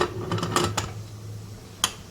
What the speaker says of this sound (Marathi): मी झाकण लावून घेऊया